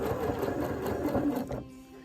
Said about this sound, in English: So I'm currently just sewing that long straight edge along the bottom of the crown.